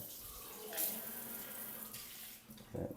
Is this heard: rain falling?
no